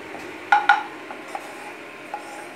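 Metal utensils clink and clatter against a kadhai on the stove while paneer tikka masala is cooked, two sharp clanks close together, then a few softer taps alone in a quiet kitchen.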